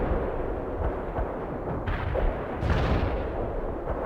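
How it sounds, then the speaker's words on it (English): Sustained rumbling barrage of bomb blasts from a carpet bombing run in the strategy game World in Conflict, dense low booms rolling continuously with swells near the middle and end, no talk. "Carpet bombing underway."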